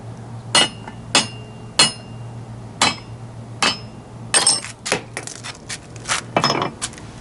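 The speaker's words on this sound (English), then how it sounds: "hammer that down" Hammer striking a socket down onto a Nissan locking wheel lug nut, a series of sharp metallic clanks at irregular intervals, close and loud, with some quicker taps in a cluster near the end.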